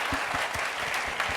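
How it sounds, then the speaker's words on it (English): Audience applause at a literary talk by historian William Dalrymple at India by the Bay 2024, a steady wash of hand claps from a seated crowd with a few closer, louder claps, and no voices over it. "why don't we just give him another round of wonderful applause"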